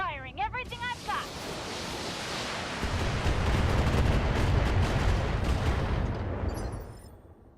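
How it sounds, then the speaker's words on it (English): A Battletech mech firing all its weapons: a brief synthetic chirp gives way to a rising, sustained roar of blasts and rumbling explosions that swells for several seconds before dying away, with a voice briefly audible near the start. "Firing everything I've got."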